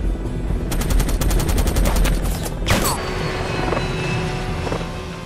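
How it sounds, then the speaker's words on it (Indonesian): Rapid bursts of automatic rifle fire aimed at a helicopter rattle loudly in quick succession, followed by the helicopter's steady whir droning on after the shooting stops, from the film Shooter (2007). "menggunakan senapan yang lebih besar untuk menumbangkan helikopter musuh yang mengincarnya"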